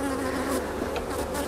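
Honey bees buzzing densely around a hive frame heavy with pollen, a close, loud, continuous drone of many wings with no voices.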